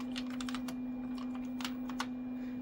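Keys clatter on a Compaq Portable computer keyboard in quick irregular bursts of close clicks, with a steady electrical hum running underneath throughout.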